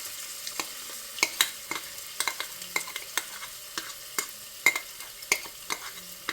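Cumin and ginger paste frying in a pan for a gobhi matar dish, with a steady sizzle broken by frequent sharp clinks and scrapes of a spoon stirring against the metal, close and fairly quiet.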